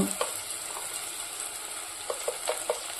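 Onions fry in a pan with an even, moderate sizzle, while a spoon gives a few soft stirring taps near the end.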